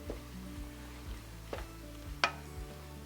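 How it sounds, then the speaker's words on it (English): Filling for a Louisiana crawfish pie sautéing in a pan, a low, faint sizzle with a few soft utensil clicks and one sharper clink near the end. "I'm going to saute this down for a couple more minutes."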